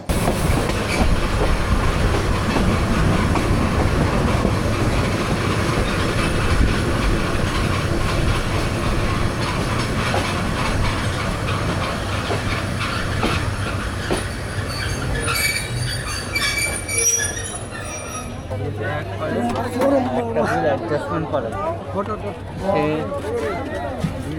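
The Mahanagar Provati train rolls along a platform at Bhairab railway station with a loud, continuous rumble of wheels and carriages, then squealing wheels and a low steady hum as it slows, with voices throughout.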